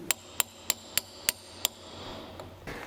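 A hammer tapping on a nut on a Peugeot 205 CTI handbrake cable to mark it: six sharp, evenly spaced metallic taps, close and clear, then a quieter faint knock.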